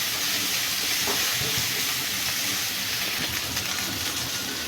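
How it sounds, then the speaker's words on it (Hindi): Chopped onions frying in hot oil for an eggplant and chana dal curry, stirred until golden: a steady, dense sizzle and hiss that runs continuously at moderate level with no talk. "तो प्याज को बराबर चला चला कर फ्राई करेंगे जब तक ये गोल्डन ना हो जाए।"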